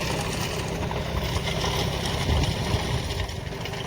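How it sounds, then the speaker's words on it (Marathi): A large tractor running a rotavator (rotary tiller) in a field gives a steady, continuous mechanical drone with rattling, clanking undertones, close and fairly loud, with no talk. "आता जवळजवळ 1 तास झालं ट्रॅक्टर चालतं."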